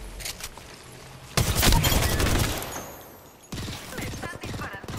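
Rapid automatic gunfire in Apex Legends rattles in dense bursts, one long heavy fusillade and a later shorter burst, loud over background game sounds.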